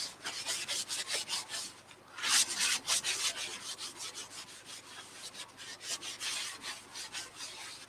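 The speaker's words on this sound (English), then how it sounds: "I'll just give that a rub in and then probably hit it with the buffing wheel again." Finish being rubbed by hand into an ash end-grain piece with wild grain, a steady back-and-forth rasping swish repeating in close, even strokes with one brief louder burst, and no talking.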